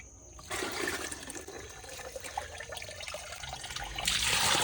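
Liquid micronutrient fertilizer solution for vegetable plants is poured out in a steady splashing stream that starts abruptly after a quiet moment, runs on evenly, and swells louder near the end.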